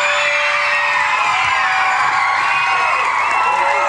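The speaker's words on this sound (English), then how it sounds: "can you tell the crowd are a little bit excited?" A studio audience at a 1990s word game show cheers and whoops loudly and continuously, with high excited shouting filling the whole stretch.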